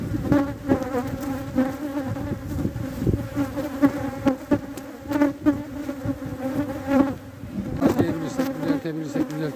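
Dense, continuous buzzing of many honeybees swarming close by at a hive being merged, with muffled handling bumps and rustles underneath.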